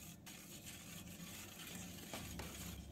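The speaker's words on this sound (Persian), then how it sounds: "خوب مخلوط میکنیم." A spoon steadily stirs a thick yeast-free pizza dough mixture with oil and salt in a bowl, a continuous close scraping and swishing with a faint clink near the end.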